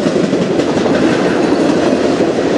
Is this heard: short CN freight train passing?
yes